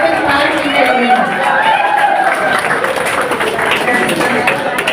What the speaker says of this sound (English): I request all the audience to give a big round of applause to the delegates who have taken part in the event